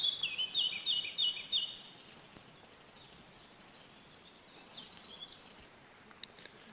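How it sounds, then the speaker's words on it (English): Birds singing along a mountain road on the way from Tolmin toward Planina Razor in the morning: a short run of bright repeated chirps early on, then quieter scattered calls over a soft outdoor hush. "and birds are singing"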